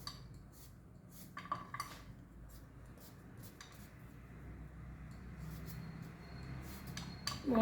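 Tender raw green mango being cut with a knife for pickle, giving soft repeated clicks and taps of the blade against the board and utensils, fairly quiet and close with no talking.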